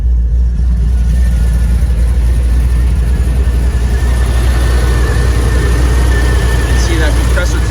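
A 1984 GMC Jimmy Sierra Classic truck idles with its air conditioning compressor engaged, giving a steady, loud low engine drone with a faint whine and a few brief ticks over the top.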